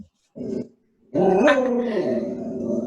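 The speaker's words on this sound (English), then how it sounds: "Oh, there's the puppy." A dog gives a short low growl, pauses, then breaks into a longer growling, barking outburst up close, loud with no talk over it.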